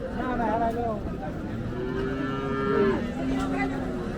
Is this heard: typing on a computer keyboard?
no